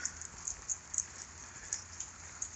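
Light outdoor rain pattering on surfaces, soft and distant, with scattered brighter drops ticking over a quiet background.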